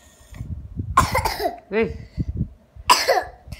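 A person coughs in several harsh bursts, two clustered early and one more near the end, close to the microphone, with a brief spoken word and soft background voices between them.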